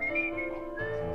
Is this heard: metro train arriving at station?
no